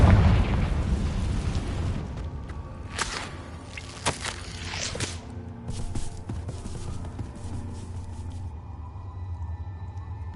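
A Confringo spell explosion in the video game Hogwarts Legacy, starting with a loud burst and rumble, followed by several sharp cracking impacts and a fading ringing tail.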